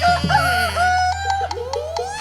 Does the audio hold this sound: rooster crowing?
yes